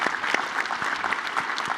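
An audience applauds panelists after a higher-education leadership session, with steady clapping throughout and sharper individual claps standing out near the front.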